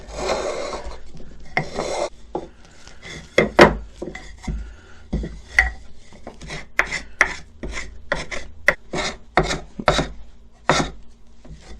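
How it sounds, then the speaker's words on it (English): A small wooden board is smoothed by hand with sandpaper or a small hand plane, a series of crisp rasping strokes, irregular at first and then in a quicker rhythmic run, close and clear with no speech. "You can do this with sandpaper, or you can do it with a small hand plane."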